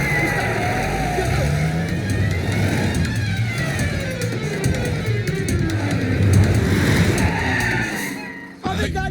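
Car from a Hindi comedy film scene driving fast, with continuous engine roar, tyre skidding and rising revs over nine seconds, a voice talking partway through and the sound cutting off abruptly near the end.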